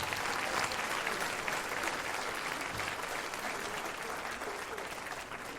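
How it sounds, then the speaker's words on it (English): An audience at a live comedy show gives a round of applause, a dense, steady roar of clapping from a crowd that stays loud throughout and tapers only slightly. "Give him a round of applause"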